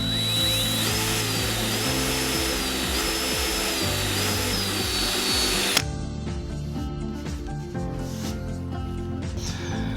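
A power drill bores a hole into a wooden desk leg for a folding desk build, a close, steady whirring grind that runs for several seconds, then cuts to a rougher, scraping drilling stretch with no talk.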